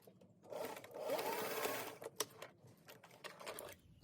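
A sewing machine stitching a fabric face mask, running in one sustained close whirring burst with rapid needle chatter, then slowing into a few scattered clicks and short stutters.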